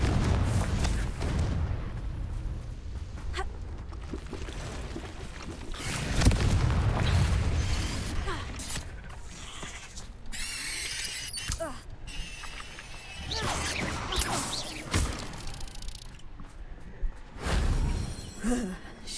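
Confringo blasting spells explode in Hogwarts Legacy, several deep booming blasts and crackling impacts scattered through a noisy battle, with character voices speaking over the action.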